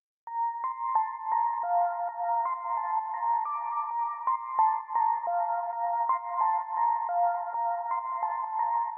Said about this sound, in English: We've got this little sparkly lead.